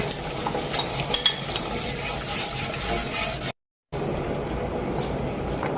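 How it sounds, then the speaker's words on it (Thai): A spoon scrapes and swishes steadily through a bubbling pot of thickening Thai meatball dipping sauce over high heat, continuous stirring with a brief silent gap near the end. "เราก็คนไปเรื่อย ๆ จนความเหนืดได้แล้วเราก็ค่อยหยุด"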